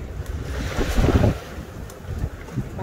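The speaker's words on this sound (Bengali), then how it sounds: "বাতাসটা জানি না আপনি শন শন শব্দগুলো শুনতে পাচ্ছেন কি না," Wind whooshes and roars through a heavy Canadian snowstorm, a steady broadband rush that swells in loudness around the middle and again near the end, with no voices.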